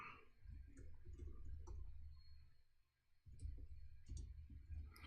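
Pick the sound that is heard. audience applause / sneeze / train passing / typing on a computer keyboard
typing on a computer keyboard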